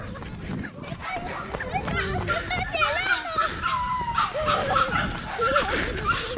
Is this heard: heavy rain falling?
no